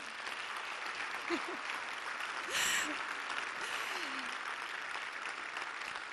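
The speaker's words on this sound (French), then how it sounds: "vraiment vous pouvez l'applaudir" A crowd applauds steadily throughout at an EPFL alumni gala, a dense wash of clapping with faint voices briefly rising in the middle.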